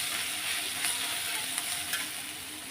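Onions fry in a pan with salt added, a steady close hiss of sizzling oil with faint scattered clicks of stirring, continuous and fairly loud, with no voices.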